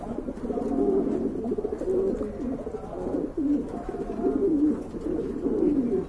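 A male pigeon coos repeatedly in low, rolling phrases, close and steady, with a faint background hum and no talking.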